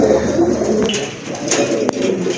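Pigeons coo in low, throaty repeated calls close by, over a constant background hum with a couple of brief knocks.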